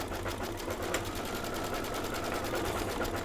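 An embroidery sewing machine stitching steadily, its rapid even needle rhythm running loud and continuous throughout with no talking.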